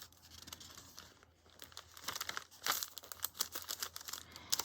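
Grungy journal papers crinkle and rustle as the pages are flipped, a busy run of crisp crackles close by that grows denser and louder toward the end.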